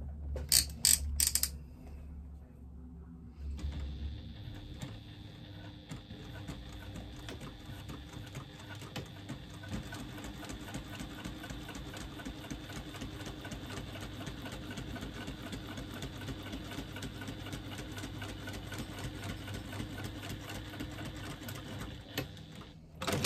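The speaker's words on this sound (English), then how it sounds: "just going to stitch along that line to join these two pieces together" A sewing machine stitching two leather panels together to form a longer strap: after a few short clicks and a pause, a fast steady mechanical whirr and rhythmic needle chatter runs continuously, close and moderately quiet.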